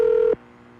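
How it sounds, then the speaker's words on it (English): Phone line tone while a call to Sweden's random Swede number connects: a loud, steady electronic beep that holds, then cuts off sharply into near silence. "the phone sounds you hear when you call there are extremely cool"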